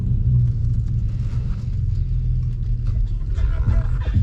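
A car rolls along a road at night on a first run, its steady engine rumble and road noise filling the cabin, loud and continuous throughout.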